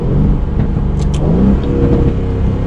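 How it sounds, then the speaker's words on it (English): A 2020 Aston Martin Vantage engine in track mode hums and revs close by, its pitch climbing and falling in a throaty, continuous drone. "Track mode, this car, it makes some really good noises already, as you heard in the revs."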